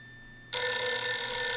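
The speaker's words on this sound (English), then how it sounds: "The phone is ringing." Telephone in a Roblox Bloxburg house bursting into a loud, bright electronic ring after a quiet moment, a sustained trilling tone that keeps going to the end.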